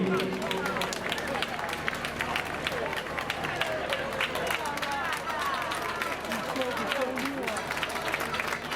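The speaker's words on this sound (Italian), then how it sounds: "dall'altra con un applauso salutiamo il gruppo Folk" Spectators clap steadily for a folk group during the Cavalcata Sarda parade in Sassari. The applause is dense and continuous, with crowd babble and voices mixed in throughout.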